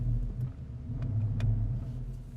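A 2014 Porsche Panamera Turbo with its 4.8-liter twin-turbo V8, a low, steady engine rumble with a faint idle burble, close by and without talk.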